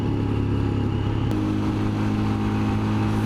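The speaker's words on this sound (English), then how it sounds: "Let's see about engine braking on this hill." A Royal Enfield Scram motorcycle engine braking down a hill, a steady mid-pitched engine drone with a faint shift partway through, close and continuous with no talking.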